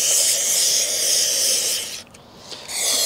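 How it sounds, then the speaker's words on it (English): ThreeBond intake valve cleaner sprayed into the intake ports of a BMW N54 engine gives a close, continuous aerosol hiss that cuts out briefly near the end, then resumes. "And I'll just spray a bit in the ports while we've got one on angle."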